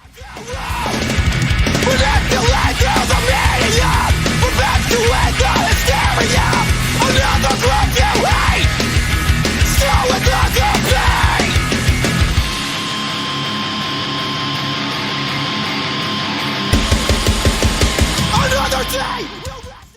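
Loud, dense hardcore band playing with pounding drums and crashing cymbals filling the mix, shifting to a thinner, brighter section partway through before the full kit returns.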